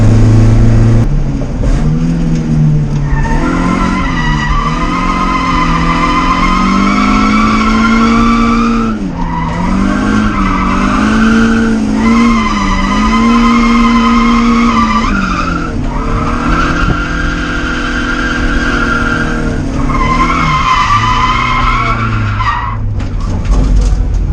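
A loud rally car engine revs hard and holds high while drifting, rising and falling in long sustained surges with tire-squeal-like tones over several passes, close by.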